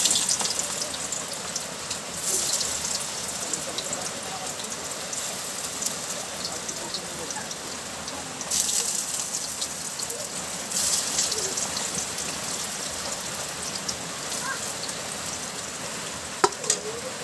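Kochu pata (taro leaves) fry in hot oil with a steady, dense crackling sizzle like rain on a surface, holding for many seconds with a few louder spits.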